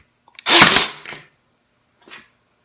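Kimo 20V cordless 18-gauge brad nailer firing into pine: one loud, sharp snapping shot with a brief tail, followed by a fainter short mechanical click a second later, close by with no talking.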